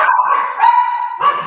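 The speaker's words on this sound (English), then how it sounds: "My dog can see a dog." A dog barks in quick repeated yips and bow-wows, loud and close, filling the whole stretch with no talk over it.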